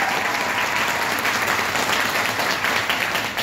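Audience at a network-marketing training seminar clapping loudly, a thick, continuous round of applause with no pauses.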